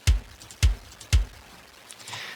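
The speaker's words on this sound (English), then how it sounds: "I have a kick that sounds like this." Three punchy kick drum hits from a music production sample, evenly spaced about half a second apart. Each is a deep thump with a sharp click, followed by faint quieter sounds.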